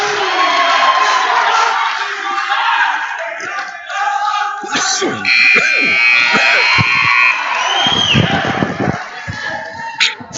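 A buzzer sounds at a high school wrestling match in a gym, over a loud crowd that cheers and shouts. An announcer talks throughout.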